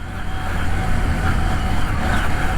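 A CF Moto 800MT motorcycle rolls slowly in first gear over rocky ground, its engine a close, loud, rumbling drone that holds steady with no speech over it.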